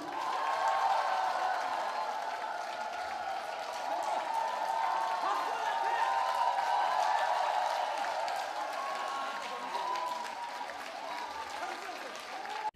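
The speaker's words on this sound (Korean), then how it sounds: "박수 한번 주세요" Sustained audience applause at a live performance event in Korea, steady crowd clapping over about thirteen seconds with some cheering mixed in.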